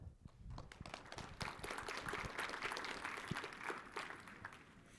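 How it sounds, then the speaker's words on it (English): A quiet audience claps to welcome a speaker at a Python programming conference talk, with dense, fairly distant applause lasting several seconds. "Let's welcome Antoine with a round of applause"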